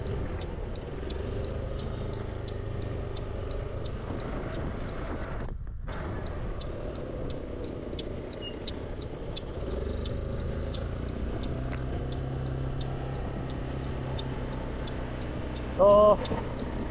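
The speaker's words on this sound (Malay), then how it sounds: "bunyi dia lebih kasar lah daripada skuter biasa" A SYM ADX TG 400 scooter engine idles with a rough, low, continuous drone, harsher than an ordinary scooter, while someone talks over it and a brief louder burst comes near the end.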